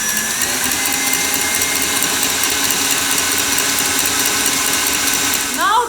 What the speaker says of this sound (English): Then whisk it again for about 1 minute.